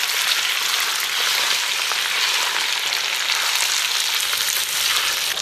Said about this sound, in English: when you feel the oil is getting hot, put the fish in